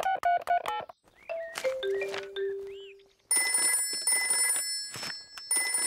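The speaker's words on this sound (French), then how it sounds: "Oh, c'est le téléphone pour les cas d'urgence." Cartoon emergency telephone from Peppa Pig: a quick run of beeping dial tones, a few sliding electronic chirps and a held tone, then a bright, insistent electronic ringing that repeats in bursts.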